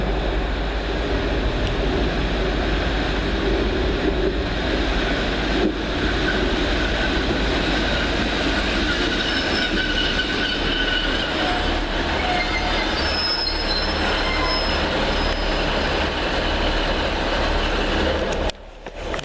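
A train departing Liverpool Road in Manchester makes a loud, continuous rumble with high wheel squeal and rail noise. The sound is close and sustained for the whole stretch, with no voices.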